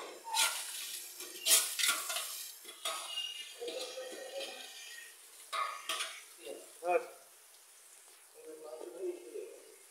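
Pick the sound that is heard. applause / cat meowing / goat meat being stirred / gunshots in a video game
goat meat being stirred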